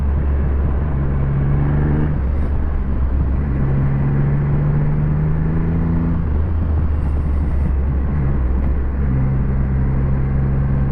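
A 2024 Triumph Rocket 3 GT motorcycle is ridden on the road, with a loud, continuous engine drone whose pitch climbs and settles through gear changes under heavy wind rumble.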